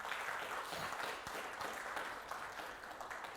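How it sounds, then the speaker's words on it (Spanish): Church congregation applauding during a Spanish-language Sunday worship service, a steady dense clapping wash that holds evenly for the full few seconds with no voices standing out. "Dele un aplauso al Señor."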